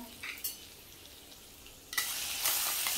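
Mustard seeds, cumin, asafoetida and curry leaves dropped into hot oil, giving a soft crackle that jumps to a louder, steady hiss and sizzle near the end, with a faint clink of utensils early on.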